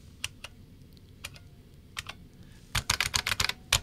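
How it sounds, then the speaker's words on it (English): A buckling spring computer keyboard types in sparse clicks, then a quick burst of loud, crisp keystrokes with a faint metallic ting, close up and with no talking. "a spring that buckles when you press the switch and makes not only an audible click, but kind of a, you can hear a little musical ting"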